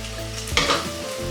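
Onions and garlic sizzle and fry steadily in a pan, with a brief stir or scrape near the middle. The frying is close and continuous, and no one speaks.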